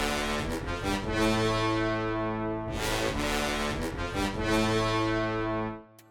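Orchestral bass layer from a free Kontakt orchestra bank, part of a trap beat, sustaining low and full under bright upper strings in two long swelling phrases, then cutting off near the end.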